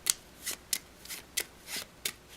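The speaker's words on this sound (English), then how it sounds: "I'm going to give these cards a little bit of a shuffle." A deck of playing cards is shuffled by hand during a card trick, giving about seven quick, crisp riffling bursts close up, each separated by brief pauses.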